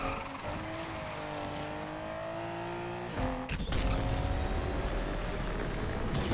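Car engine in Need for Speed: Unbound, a steady loud droning rev with a sharp shift partway through before the engine surges louder, heard alone without talk.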